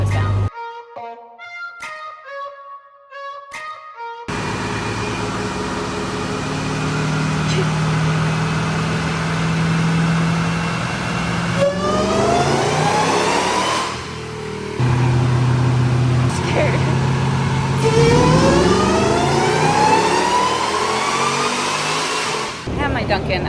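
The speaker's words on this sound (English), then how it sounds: "Sounds like kind of aggressive street driving to me." Jeep Trackhawk engine revving and accelerating in aggressive street driving, with rising sweeps of engine pitch that climb, drop and climb again, loud and close for most of the run after a quieter opening.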